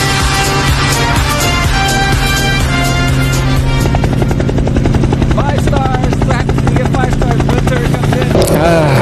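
A helicopter flying overhead in Alaska, a loud, steady rotor thrum with a droning engine whine that fills the whole stretch and shifts slightly in pitch as it passes, with no other voices audible.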